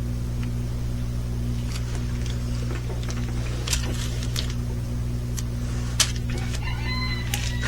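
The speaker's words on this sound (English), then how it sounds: "There's my rooster." A rooster crows in the background over a steady low hum, with several brief bright bursts scattered through the stretch, fairly faint and partly masked by constant droning noise.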